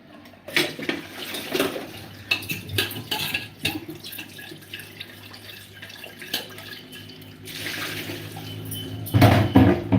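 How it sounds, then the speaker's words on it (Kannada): Dishes, pots and utensils are washed with running water: scattered clanks and knocks, then a steadier stream of water and a louder clatter near the end, fairly close. "ನಾವೆಲ್ಲರೂ ಪಾತ್ರೆ ತೊಳಿಬೇಕು"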